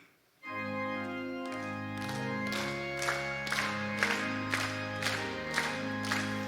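A church congregation sings a hymn together during a Wednesday evening service, with steady rhythmic clapping along to the beat that grows sharper and more regular after the opening seconds, loud and close under the sustained singing.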